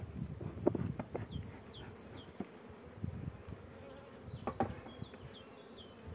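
Honey bees hum at a beehive in a faint, continuous drone, with scattered soft knocks and rustles and a few faint bird chirps in the background.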